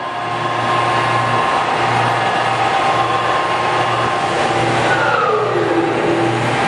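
A Cincinnati No. 3HD horizontal milling machine running at 1600 RPM, a steady loud mechanical hum with a pulsing low drone and a tone that shifts near the end, no talking.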